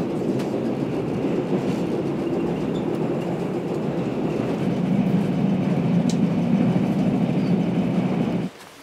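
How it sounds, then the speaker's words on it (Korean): Passenger train running on rails toward Hongseong, South Chungcheong, heard as a steady loud rumble with a low rolling roar that swells slightly midway, continuous and close, with no voices, before cutting off abruptly near the end. "그를 태운 열차가 충남 홍성에 닿았습니다."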